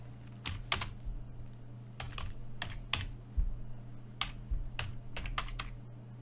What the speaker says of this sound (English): just typing on the existing command